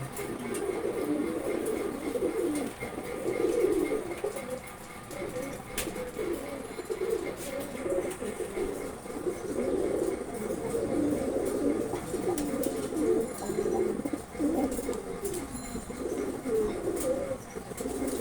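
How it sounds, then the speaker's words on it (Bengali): Continuous soft cooing from several Maksi Homa pigeons, overlapping low burbling calls that rise and fall steadily, with faint chirps in the background. "এটা হচ্ছে মাকফি হুমা কবুতর"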